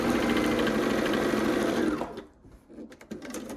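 A sewing machine stitching rows of an Ohio Star quilt block, running in a fast steady whir for about two seconds, then stopping, followed by a few light mechanical clicks and fabric handling.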